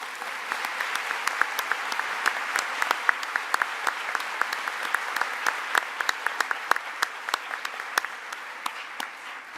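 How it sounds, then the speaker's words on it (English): Sustained applause from a large conference audience at a programming contest opening ceremony, dense steady clapping with sharper individual claps standing out, moderately close and continuous throughout. "And just one more round of applause for these coaches"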